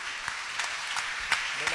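Church audience applause spreading through a congregation, a steady wash of many hands with a few sharper claps standing out, fairly distant, while a voice speaks faintly over it.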